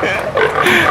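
Pigs on an organic pig farm squeal and grunt loudly up close in a short burst, overlapping nasal calls during a harvest roundup.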